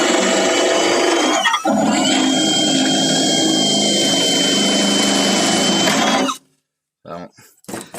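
Carbide burr grinding out spot welds in the trunk of a 1957 Chevy 210, a loud, steady high-pitched whine running continuously for about six seconds, with a brief dip near the start, then cutting off abruptly into quiet with a few faint knocks.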